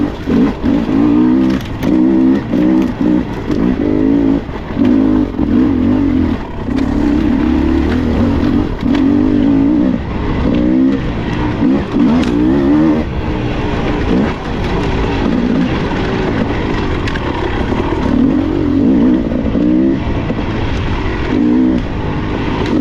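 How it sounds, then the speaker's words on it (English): A dirt bike motor runs loud and close, holding a steady drone with pulsing rises and dips in revs and no talking. "the motor's really smooth, just a lot more vibration."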